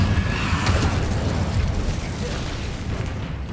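In the Hogwarts Legacy video game, the Incendio fire spell is cast, producing a loud whooshing, roaring burst of flame that rumbles steadily and eases off slightly toward the end.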